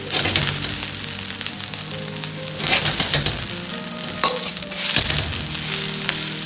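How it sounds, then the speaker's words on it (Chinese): Scallions fry over medium heat in hot scallion oil in a wok, giving a loud, continuous crackling sizzle with occasional sharper pops and stirring scrapes, and no voices. "油热后下入大葱，保持中火，一定要把大葱煎出香味。"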